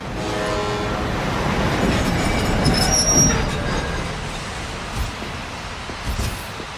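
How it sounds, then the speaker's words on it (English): A train rolls past nearby with a continuous rumbling roar, faint wheel squeal above it and a few clanks toward the end, heard alone without speech. "Here for the train?"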